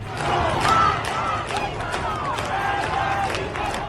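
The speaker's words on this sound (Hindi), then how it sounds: "सड़कों पर प्रदर्शनकारियों की भारी भीड़ है।" A large crowd of protesters fills a street in Tehran, producing a dense, steady roar of many voices, with scattered shouts and claps rising over a constant murmur.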